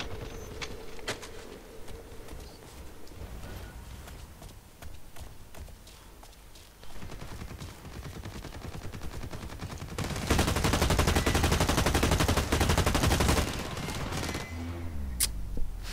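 Automatic gunfire with heavy recoil in the Blacklight Retribution shooter, rapid continuous bursts building to a loud sustained stream of shots near the end, with game clatter between.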